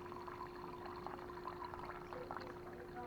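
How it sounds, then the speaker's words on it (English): Water pours steadily from a reverse osmosis filter machine, a continuous close splashing stream with a steady hum underneath and no voices. "here's our RO, reverse osmosis water machine."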